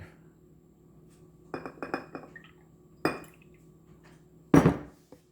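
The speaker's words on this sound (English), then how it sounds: "I'm gonna put a little shot glass here, and I'm gonna put a little water in it." A small shot glass clinks as it is set down on a table, followed by a few light taps and a brief splash as a little water is poured in, faint and close with no talk.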